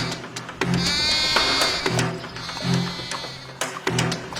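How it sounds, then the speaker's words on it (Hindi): A goat bleats at night, loud and close, in several repeated calls roughly a second apart, each a strained, wavering cry. "लगता है कोई बकरी फंस गई है, चलो देखते हैं।"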